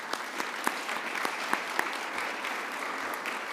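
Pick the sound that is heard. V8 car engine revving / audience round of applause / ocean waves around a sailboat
audience round of applause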